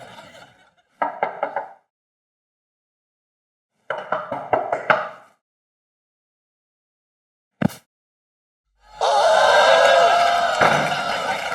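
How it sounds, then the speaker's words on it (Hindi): Someone knocks on a room door in two quick bursts of several sharp raps each, close and loud with silence between, then a single thud before a loud, sustained noisy sound takes over. "अरे कमरे का दरवाजा खटखटाएंगे तब पता लगेगा। हाँ तो खटखटाओ ना। हाँ तो खटखटा रहा हूँ,"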